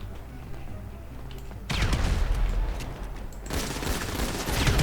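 Gunfire in GTA V FiveM erupts in dense bursts of rapid shots after a quieter stretch, cutting out briefly and then resuming loud and close, with no voices over it.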